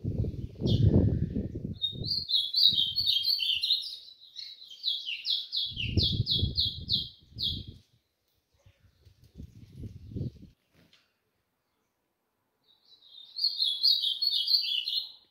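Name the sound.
golinha and azulão songbirds singing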